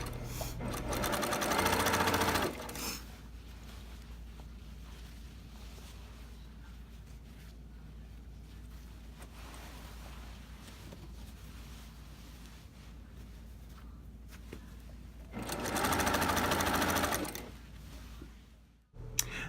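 A sewing machine stitches the side seams of a dress in two fast bursts of rapid mechanical whirring, one at the start and one near the end, separated by quiet room tone.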